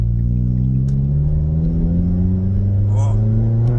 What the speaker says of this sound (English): We're going to get some revs in a minute and get the engine started.